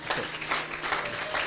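Applause with scattered cheering from a church audience acclaiming Yeshua during a Q&A gathering, a steady dense wash of clapping that runs evenly throughout at moderate loudness, with no talking over it.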